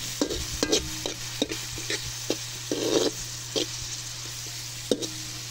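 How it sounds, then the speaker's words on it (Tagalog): Mixed vegetables and shrimp sizzling in a hot pan, with a utensil stirring and scraping in short bursts at an irregular rhythm, close up, no voices. "Prito ng konti."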